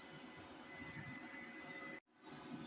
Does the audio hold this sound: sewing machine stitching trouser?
yes